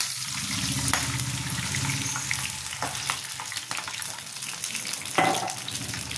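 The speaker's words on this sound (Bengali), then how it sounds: "এক কাপ জল দিয়ে দেবো, আর দেবো নুন," Frying in a pan while water goes in for a dhokla tempering with mustard seeds and curry leaves, giving a dense close sizzle that softens a little and carries a sharp burst near the end.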